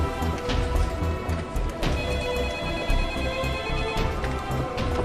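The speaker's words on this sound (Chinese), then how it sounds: "小马接电话" A telephone rings in a police investigation office, its repeated electronic trill steady and fairly loud over a busy room tone, with no one speaking.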